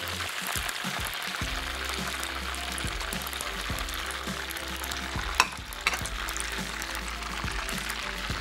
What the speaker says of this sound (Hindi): बस हल्का सा फ्राई हो और आपने इसको रिमूव कर लेना है ऑयल से